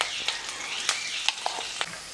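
Mustard seeds and lentils crackle while tempering in hot oil for a tomato kara chutney, with sharp intermittent pops over a steady sizzle, close and alone.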